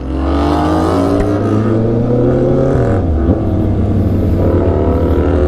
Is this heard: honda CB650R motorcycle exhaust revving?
yes